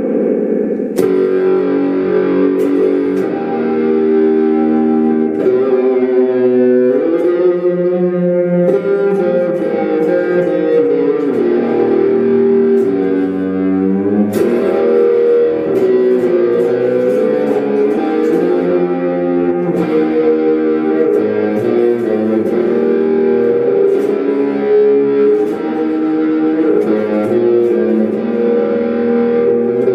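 An electric guitar runs through Amplitube 5 amp simulation with reverb and distortion, playing sustained distorted chords and notes in a wash of echoing tail that holds steady at high volume across the whole passage.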